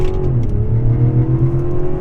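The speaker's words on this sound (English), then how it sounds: "we are going to pretty much punch it and go left and see how this all-wheel drive system reacts" A 2024 Mazda CX-90 Turbo S SUV with all-wheel drive accelerates hard from a standstill, its engine note rising in a loud, steady drone heard from inside the cabin, with no talking.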